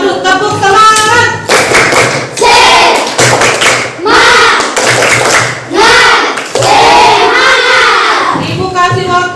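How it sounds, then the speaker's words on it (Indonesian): A classroom of students performs a rhythmic spirit clap, loud bursts of hand claps in patterned sequences with shouted chants between the clapping phrases, close and filling the room. "Oke, kita tepuk semangat dulu"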